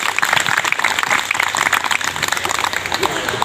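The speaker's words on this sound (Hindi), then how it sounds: "चलिए एक बार ताली बजा दिए सर जी।" Crowd at a village gathering in Ranchi clapping together, a loud, close, uneven patter of hands with individual claps audible and voices murmuring underneath.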